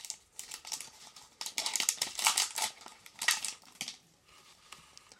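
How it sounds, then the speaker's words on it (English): Scissors snip and crinkle through the foil wrapper of a 2019 AFL Teamcoach trading card pack, giving close, brisk bursts of cutting and rustling with no talking. "We're going to use scissors to go through as quickly as possible and hopefully make as little mess as possible."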